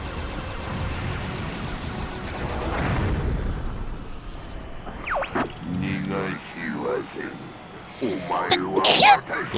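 A person sneezes once during a Star Fox 64 play session, the burst standing out over booming game explosions, with voices talking around it.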